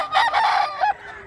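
A two-year-old green-hackled rooster up for sale gives one short, loud crow nearby, its call breaking into a few pulses before falling quiet.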